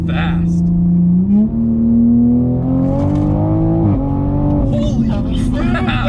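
A tuned 2020 Toyota Supra with 670 wheel horsepower accelerates hard through fourth gear, its engine note a loud, rising howl close to the listener, with a brief dip at a shift and excited voices over it.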